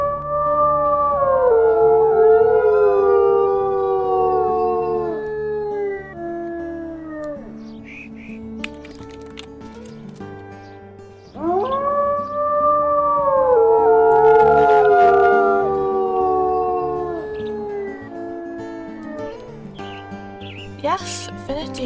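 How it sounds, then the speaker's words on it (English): Wolves howling in the video game WolfQuest, several long rising and falling howls that overlap into a loud sustained chorus, with brief pauses between waves. "Guys, just keep howling."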